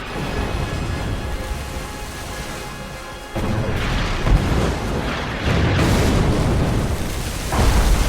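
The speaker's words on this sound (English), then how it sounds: "Rodney and King George closed rapidly, firing salvo after salvo." Battleships Rodney and King George V fire salvo after salvo at the Bismarck, heard as a continuous, loud, rumbling din of heavy naval gunfire and shell explosions with repeated stronger booms.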